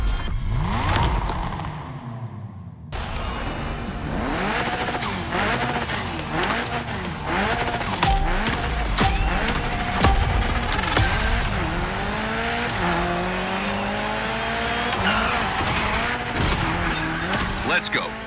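A Mitsubishi Evo 9 runs a gymkhana course in The Crew Motorfest game, its engine revving hard over repeated tire squeals and skids in a dense, continuous stream, with a voice talking briefly at the start.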